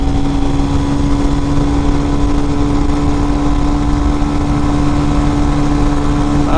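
A 2019 RPS Hawk DLX 250 motorcycle engine drones loudly at constant speed, its exhaust note dense and continuous throughout.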